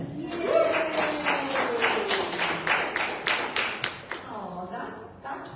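An audience claps at a live event in Cleveland, Ohio. A run of separate, fairly sparse hand claps sounds alongside a voice, then fades out near the end.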